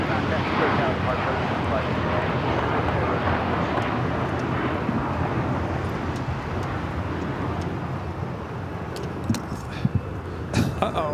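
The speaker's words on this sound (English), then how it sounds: "American Airlines Flight 27 taking off to Tokyo Haneda on the 787-8 Dreamliner." An American Airlines 787-8 Dreamliner takes off from LAX bound for Tokyo Haneda, a loud, steady broadband jet roar filling the whole stretch and easing slightly toward the end, with a few faint clicks and brief bumps near the close.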